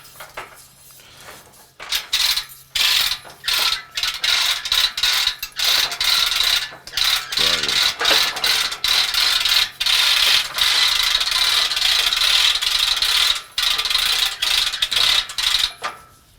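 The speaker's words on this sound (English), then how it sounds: "So now we just start winching that leg up." A winch on a cattle hoof crush hoists a cow's leg with a rope, giving repeated close, loud metallic ratcheting bursts with short pauses between pulls, and some faint clanks.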